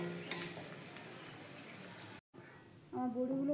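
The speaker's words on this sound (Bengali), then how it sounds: "আমি প্রথমে বড়ি দিয়ে দিব, বড়িগুলো ভেজে নিব।" Lentil dumplings (bori) frying in oil in a pan, a steady soft sizzle running underneath, briefly broken by a gap, with a voice speaking near the end.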